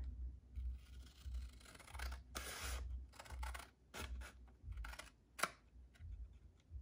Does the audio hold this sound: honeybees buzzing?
no